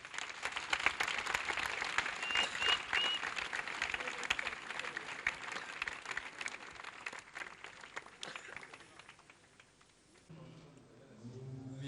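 An audience at a television channel's inauguration ceremony breaks into sustained, lively clapping after a formal speech. The applause runs about ten seconds before fading, and a voice follows near the end.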